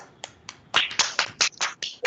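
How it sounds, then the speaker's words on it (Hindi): Audience applause at a student camp closing ceremony in India: scattered sharp claps that quickly thicken into a run of loud bursts, close and with no talking. "स्वागत करें ताली बजा करके"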